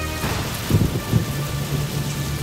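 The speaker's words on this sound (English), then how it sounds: "Heavy rains came, which made moving troops difficult" Heavy rain pours steadily with low rumbles of thunder rolling beneath it. A dense, loud wash of downpour continues throughout, with two stronger thunder swells near the middle and no voices.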